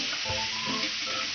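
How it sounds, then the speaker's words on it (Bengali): Potatoes salted and tossed with turmeric sizzle lightly in hot oil for a Bengali chicken curry: a steady, moderately quiet crackling hiss with occasional soft stirring scrapes, close and continuous, no voices. "আলুটা বেশি ভাজবো না, হালকা করে ভাজবো।"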